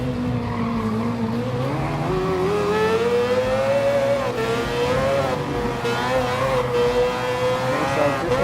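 Mazda 787B race car in Gran Turismo Sport on a Brazilian track, a loud continuous rotary engine whine rising and falling through the revs, close and steady with faint tire squeal, no talking.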